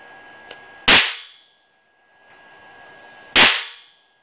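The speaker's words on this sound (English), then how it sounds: "I was wondering if the camera's going to pick that bang up" A large high-voltage capacitor explodes: two sharp, loud bangs about two and a half seconds apart, each with a quick crackling decay, the first preceded by a faint tick; no voices.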